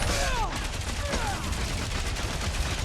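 Rapid bursts of gunfire in the Marvel's Guardians of the Galaxy video game, a dense continuous fusillade mixed with whooshing sci-fi effects and battle noise, fairly loud throughout.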